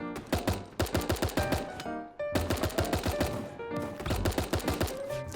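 Rapid bursts of gunfire in a free-to-play animal party battle royale game, loud repeated volleys with a brief gap between them and no talking.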